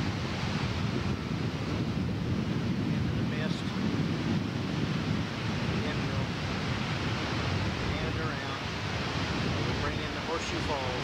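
The American Falls at Niagara Falls, seen in 1987 from roughly 100 to 150 yards away, with water rushing in a dense, steady roar mixed with wind buffeting the microphone and someone talking over it.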